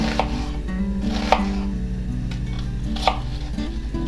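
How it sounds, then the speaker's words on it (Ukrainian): A knife chops an onion into large chunks on a board, the blows quick, dense and regular, close and loud, with a few sharper knocks standing out and no voices. "цибулинку наріжу великими шматочками"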